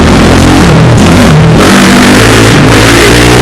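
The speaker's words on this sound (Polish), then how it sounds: "tak jak ten motocyklista, który teraz na, na pełnym motorze tutaj sobie przejechał" A motorcycle at full throttle roars past close by, loud and overpowering, its engine note rising and falling as it goes by.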